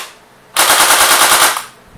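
A G36C rifle fires one loud, close full-auto burst of rapid shots lasting about a second, with no talking.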